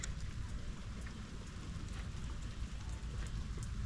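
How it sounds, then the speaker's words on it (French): Steady rain pours down in the Philippines in a continuous dense hiss, with scattered drops pattering on a surface close by. "Il pleut."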